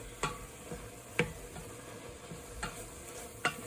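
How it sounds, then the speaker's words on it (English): Browned ground beef being stirred and broken up in a pan for lasagna, a few distinct scraping clicks spaced about a second apart over a faint frying sizzle, heard alone. "you also want to scramble this up. You want to break it up into smaller pieces"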